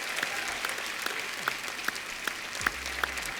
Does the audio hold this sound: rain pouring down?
no